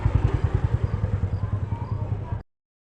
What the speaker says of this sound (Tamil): யார் அது பைக்கு சத்தம் கேட்கால இருக்கு?